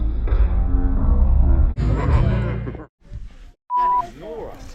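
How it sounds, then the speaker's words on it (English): Speech is cut off by a short, steady electronic beep tone near the end, with other voices talking before it. "I'm going to have to beep out all that"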